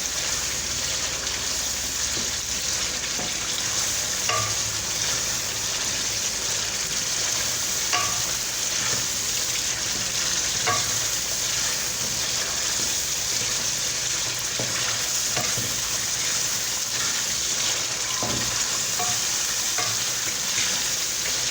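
Beef karahi sizzling over full flame in a wok, a continuous loud frying hiss with faint scattered clinks and stirring, steady throughout.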